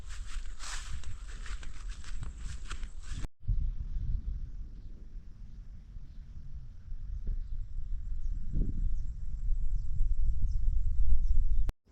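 Hooves clop along at an uneven walking pace on hard ground, fairly close, with a steady low rumble behind and no talking.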